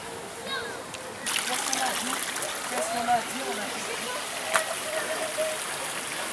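A tiny stream in Parc des Buttes Chaumont, Paris, trickles and splashes softly in the background while someone speaks over it.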